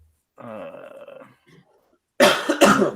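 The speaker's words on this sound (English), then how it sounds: "That kind of cough." A throaty, rumbling cough, then a short pause, and two sharp, loud coughs close to the microphone.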